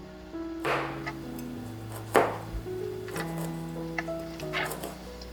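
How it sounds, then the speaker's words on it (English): A knife slicing belacan shrimp paste into thin slices on a board, giving a few soft, distinct cutting knocks spaced about a second apart over quiet background tones. "I like to cut it into thin slices."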